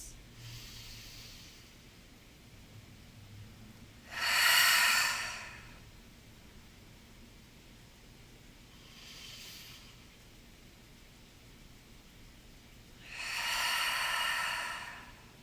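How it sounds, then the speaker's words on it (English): Deep, slow breaths during a guided yoga session: a loud inhale-exhale near 4–5 s, a softer one around 9 s and another strong one near 13–15 s, close and alone over quiet room tone. "Inhale, fill your belly for that full expansion."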